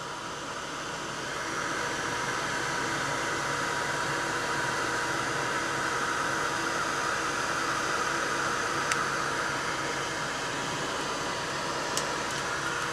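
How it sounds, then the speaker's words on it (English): A heat gun melting fabric for a flower gives a loud, steady blowing hiss close by that starts after a brief quieter moment, with a couple of faint clicks. "if I don't have the heat gun in the right spot, it's not gonna"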